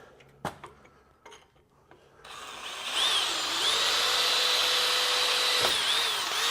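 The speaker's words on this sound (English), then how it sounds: "I'm just going to go with an 1/8 inch drill bit first." A few faint knocks and handling noises, then a power drill with a 1/8 inch Hercules bit whirs up and runs steadily at high speed, close and loud.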